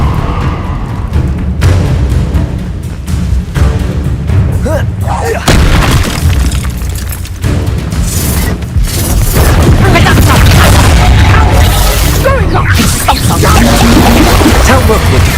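An Incendio fire spell is cast in the video game Hogwarts Legacy, producing loud booming bursts and crackling impacts amid busy battle effects, with voices heard in the fight.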